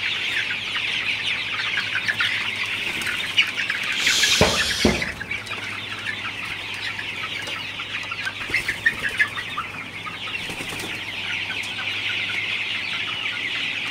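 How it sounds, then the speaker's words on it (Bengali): A shed packed full of Sonali super hybrid chickens fills the air with a dense, continuous chorus of clucking, with a brief burst of wing flapping partway through, constant and close with no talking. "আমার শেড পুরাটা ভরে গেছে আসলে মুরগিতে"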